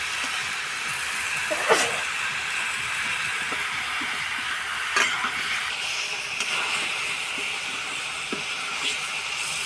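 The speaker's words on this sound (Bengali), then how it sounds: "ফাইনালি লাউ কষানো হচ্ছে" Bottle gourd sautéing in a pan, with a steady broad sizzle and occasional scraping stirs of a utensil, close and continuous throughout.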